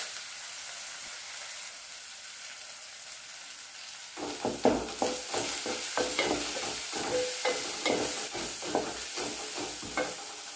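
Ginger garlic paste and turmeric stirred in a frying pan for a Malabar spinach and potato curry. A few seconds of soft hiss give way to close, uneven scraping stirs over a steady sizzle, with no voices.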